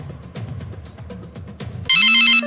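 An electronic phone ringtone trills loud and steady for about half a second, then the line rings once more as a caller waits for an answer, following a stretch of busy muffled background sound.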